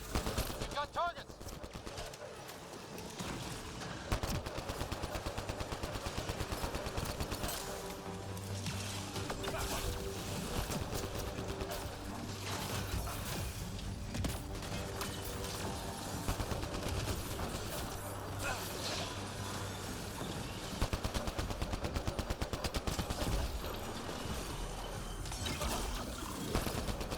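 Gunfire from the video game Mass Effect Andromeda crackles in scattered bursts through a busy combat mix, fairly quiet overall, with voices heard at times.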